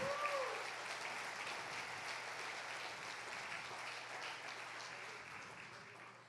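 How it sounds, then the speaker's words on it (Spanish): Church congregation applauding at a family worship service, a steady dense wash of clapping sustained throughout, moderately distant and fading slightly toward the end. "Dale fuerte el aplauso al Rey."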